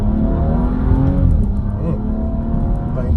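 A BMW 435 running the stock engine with a CTS turbo intake and tune accelerates, its engine note and turbo whoosh building loud and close in one sustained pull while a voice talks over it.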